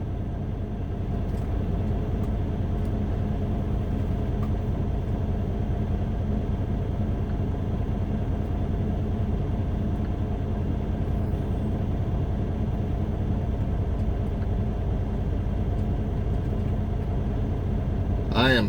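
Heavy truck cab interior with a steady, loud low engine and road rumble throughout while the truck drives past another truck, with no sharp events and only a faint rise near the end.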